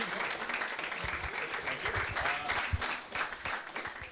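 An audience at a careers fair breaks into a sustained round of applause, dense steady clapping filling the room with a few voices mixed in.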